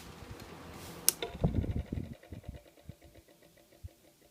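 A National brand pedestal box fan in a guest room spins down after being switched off with a click, leaving a close whirring hum that fades and slows over a few seconds, with faint rattles.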